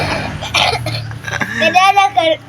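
A child's cough, a short close burst of throat noise followed by voiced, hiccup-like sounds, loud and near.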